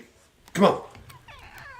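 A pet cat named Squirrel sitting in a basket lets out a single loud, drawn-out meow up close, while people talk around it.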